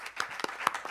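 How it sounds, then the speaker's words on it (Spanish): Audience clapping for a panel at an accessibility and inclusive products conference: a short burst of several distinct hand claps, close and fairly quiet, with no voices over it. "les pido un tremendo aplauso para este gran panel"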